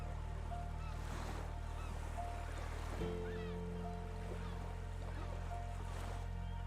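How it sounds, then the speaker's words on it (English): Ocean waves break along the Malibu coast of California as a faint, distant wash of surf beneath a steady tonal hum, continuous for several seconds with no talking. "Waves break on the coast, while surfers wait for the perfect moment to ride them."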